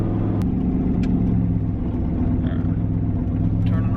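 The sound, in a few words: boosted street truck engine accelerating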